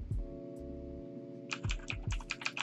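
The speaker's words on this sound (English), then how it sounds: "And I can actually use my keyboard to be using my phone." Quick keystrokes on a laptop keyboard patter in a short burst of typing, close and crisp, following a few louder thumps at the start.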